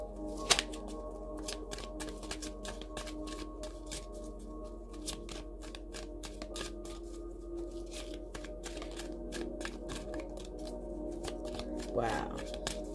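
Playing cards being handled and shuffled, with repeated crisp riffling snaps and flicks close by over a steady low hum, and a person speaking intermittently.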